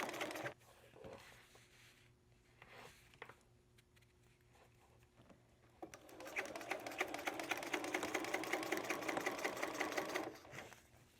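A sewing machine stitches fabric with fast, even mechanical chatter that runs steadily for several seconds after a few quieter handling clicks and thumps, close and fairly loud.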